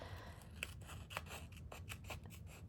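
Scissors trim paper layers of a Rolodex card collage in a quick series of soft, close snips and slices at a fairly quiet level.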